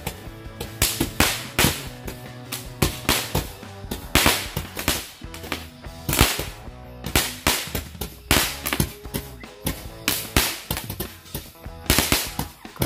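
Magic ball firecrackers bursting in a rapid, irregular string of sharp loud cracks and pops, many overlapping, continuing steadily throughout at close range.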